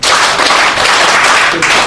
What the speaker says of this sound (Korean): 월드컵 박수 다섯 번 해보겠습니다